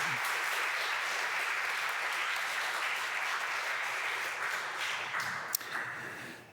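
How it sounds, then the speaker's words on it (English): An audience at a public lecture applauds continuously in dense clapping that fades slightly near the end, heard without any speech over it. "Maybe we get a round of applause for appreciation for Zion."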